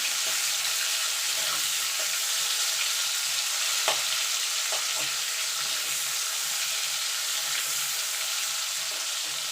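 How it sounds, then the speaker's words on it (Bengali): Onion and tomato fry in hot oil, a steady broadband sizzle running throughout with a few soft clicks from stirring; no one speaks. "টমেটো একটুখানি নাড়াচাড়া করে নেবো"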